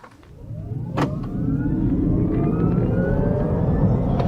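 A 2015 Smart Electric Drive electric car pulls away from a standstill with a rising electric motor whine that climbs in pitch, plus road and tyre rumble that swells and holds steady. One brief click comes early on.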